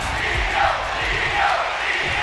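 A virtual arena crowd in the WWE 2K25 wrestling video game roars and cheers steadily, a dense continuous wash of noise with no talk over it.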